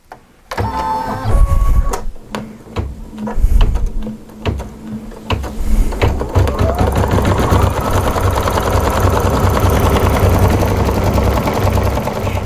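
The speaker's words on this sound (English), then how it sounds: "So I'm going to stop talking and start embroidering." An embroidery sewing machine stitching a soft sculpture design runs steadily and close, its needle clattering in a fast mechanical rhythm with a few shifts in pace before settling into a continuous whir.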